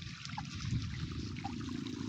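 Water from a garden hose streams and trickles steadily onto plants at a farm plot, a continuous close gurgling flow with no talk.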